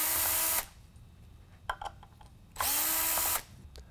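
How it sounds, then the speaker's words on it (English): A power driver whirs loudly in two bursts of under a second each while removing small Phillips head screws from a cast Whelen PAR-46 LED spotlight housing. Light clicks and handling noises come between the bursts. "1, 2, 3, 4 little Phillips head screws coming out of the way to separate the cast basin"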